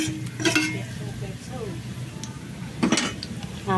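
Garlic sizzles in a hot pan for spicy chicken wings in coconut milk, with a utensil clinking and scraping in two sharp bursts over the steady frying; a voice is briefly heard.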